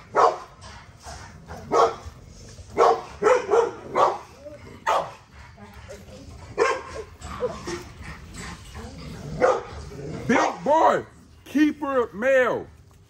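Puppies bark, yip and whimper in a rapid scatter of close, overlapping calls, with high whining yelps building toward the end, while a person talks over them.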